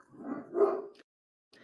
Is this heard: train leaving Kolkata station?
no